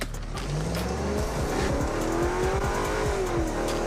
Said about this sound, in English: a supercharged V8 pushing out 469 horsepower and even more torque